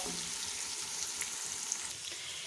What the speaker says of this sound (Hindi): उसमें मैंने प्याज को गोल्डन ब्राउन होने के लिए डाल दिया है।